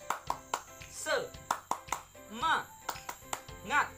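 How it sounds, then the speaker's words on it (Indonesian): A class of Indonesian schoolchildren performs the 'tepuk semangat' spirit clap, sharp rhythmic hand claps in a quick pattern mixed with children's chanting voices, ending in a shout. "Kita mulai dengan tepuk semangat."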